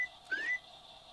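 A short whistled tone from a train crew over a TrainBoss hot box defect detector, steam era setting, a single brief rising note lasting about a quarter second over a faint hiss.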